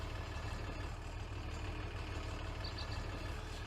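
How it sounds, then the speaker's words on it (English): International Harvester Farmall 806 tractor engine in Farming Simulator 19, a steady low idling rumble that runs without a break, moderately loud and on its own with no talk over it. "a International Harvester Farmall 806 tractor"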